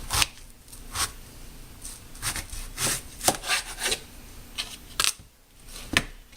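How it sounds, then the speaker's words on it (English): A knife slices lengthwise down the center of a yellow squash on a cutting board, giving a series of crisp, close cutting strokes and scrapes in an uneven rhythm, with no talking. "I cut it down the center."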